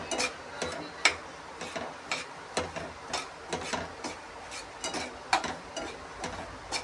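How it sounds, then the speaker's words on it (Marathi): Semolina dry-roasting in a pan while being stirred, giving soft repeated scraping ticks at a quick, fairly even rhythm, quiet and close with a faint sizzle beneath and no talking. "आता रवा टाकून घेतला भाज्याला"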